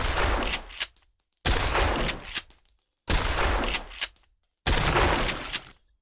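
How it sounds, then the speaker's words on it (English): Four loud, close shotgun blasts from a pump action shotgun in the VR shooter Pavlov VR, each a sharp broadband boom with a short decaying tail, spaced about 1.5 seconds apart with brief quiet gaps between. "Then we have the pump action shotgun."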